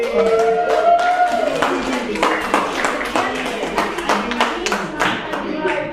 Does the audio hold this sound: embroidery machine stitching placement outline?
no